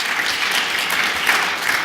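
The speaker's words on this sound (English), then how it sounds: "Let's give them a round of applause this afternoon for joining us." A round of applause from a conference session audience welcoming two guests, steady broadband clapping at a close, even level throughout, with a few sharper claps rising near the end and no talking over it.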